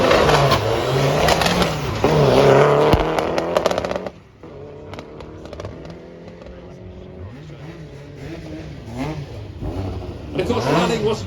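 A four-wheel-drive World Rally car built to a Monte Carlo 2000 homologation revs hard and loud at first, then drops back to a lower engine note and builds again near the end, with a busy outdoor crowd around it.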